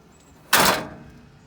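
Fold-down entry steps on the door of a 2019 Forest River Wildcat Maxx 285RKX travel trailer flip open in one short, fairly loud metallic clunk that fades over a fraction of a second, with no talk.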